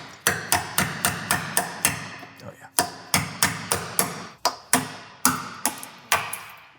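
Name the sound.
hammer and chisel chipping seam sealer off a car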